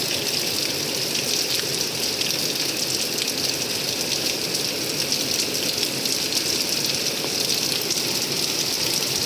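Heavy rain pours steadily and loudly in a continuous dense hiss of water, with no break or talk.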